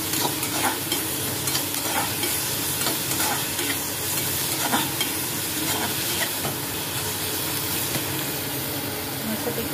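Ridge gourd being stirred with turmeric and kitchen king masala in a hot pan, a constant sizzle with rhythmic scraping strokes of the spoon, close by, and faint background voices.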